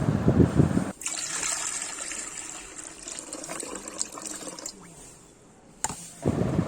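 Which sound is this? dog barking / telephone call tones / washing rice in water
washing rice in water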